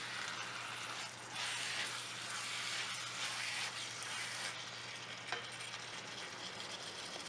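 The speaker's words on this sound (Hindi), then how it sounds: "कीमे को हमने थोड़ी तेज आग पर 6 से 7 मिनट तक भून लेना है।" Minced meat (keema) with tomatoes frying over fairly high heat in a pan gives a steady, dense sizzle with occasional stirring scrapes, up close and continuous with no talking.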